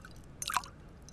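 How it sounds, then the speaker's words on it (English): Ice cubes dropping into a mixed drink in the video game Syberia: one short, quiet clatter and splash lasting about a fifth of a second, alone against a faint, still background. "Ice cubes."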